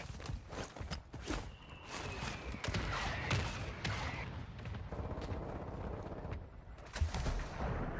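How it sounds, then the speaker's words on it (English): Mortar strike explosions in the video game Warzone, a steady rumble of distant blasts and scattered gunfire-like cracks running continuously with one sharper thump near the end. "Hostile mortar strike in the area."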